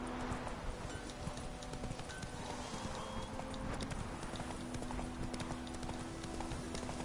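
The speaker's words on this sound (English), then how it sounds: "if I can jump things with this horse" Horse hooves clip-clop in a steady trotting rhythm in The Witcher 3 video game, over a constant background bed of ambient game sound.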